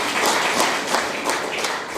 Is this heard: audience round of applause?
yes